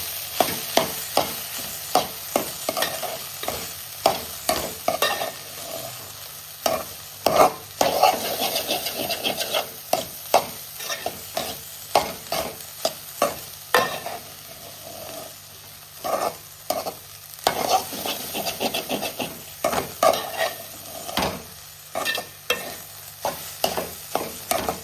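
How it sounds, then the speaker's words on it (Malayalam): Ingredients being stirred and mixed in a frying pan, with repeated scraping and rubbing strokes of a utensil over a steady low sizzle, close and fairly loud, with no voices. "ഇതെല്ലാം കൂടി നമുക്ക് മിക്സ് ചെയ്ത് കൊടുക്കാം."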